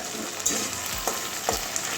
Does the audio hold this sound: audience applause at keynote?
no